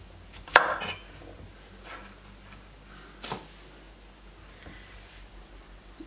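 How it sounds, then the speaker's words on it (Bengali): A knife cuts through a zucchini on a board, giving one sharp chop followed by a few softer, scattered cuts in a quiet room. "জুকিনিটা আমি কিভাবে কাটছি সেটা একটু দেখিয়ে দিচ্ছি"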